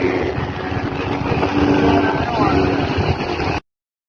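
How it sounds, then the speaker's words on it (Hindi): A heavy motorbike passes on a morning road on the way from Karachi toward Hyderabad, its loud, steady engine roar filling the whole stretch before cutting off abruptly. "हैवी बाइक जा रही है भाई सुबह ही सुबह।"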